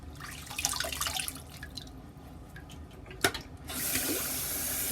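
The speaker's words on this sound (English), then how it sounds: "Actually, a cold water rinse kind of close the pores down." Tap water runs for a cold water rinse, starting as a soft splashing trickle with a sharp clatter midway, then swelling into a loud, steady hissing gush near the end.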